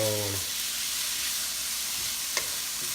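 Garlic sizzling steadily in a hot pan with cooked onion for adobong sitaw, a constant close frying hiss with a brief voice at the very start.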